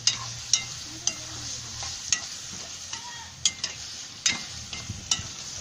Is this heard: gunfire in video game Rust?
no